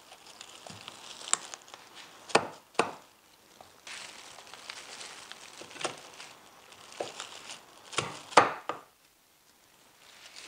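Roast duck is cut up with a cleaver on a board in a home kitchen, sharp, irregular chops and knocks with light handling sounds between them, close and crisp, with no talk.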